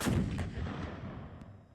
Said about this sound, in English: That is a really accurate tank cannon.